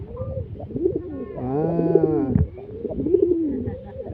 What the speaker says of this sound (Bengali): এটাই হলো কি যে পৃথিবীর সব থেকে গান বলা কবুতর